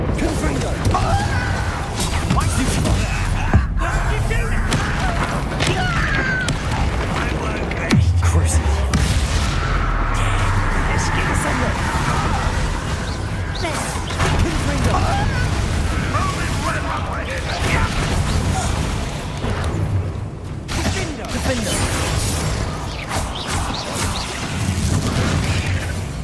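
Confringo fire spells burst repeatedly in Hogwarts Legacy combat, a dense run of booms and crackling blasts over constant battle noise, with voices talking through it.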